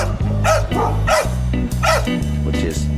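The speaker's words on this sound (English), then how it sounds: "sometimes the dogs will bark at me in this alleyway" Dogs bark repeatedly in an alleyway along a small street during a morning walk, loud and close, with several overlapping bow-wow barks and yips in quick succession.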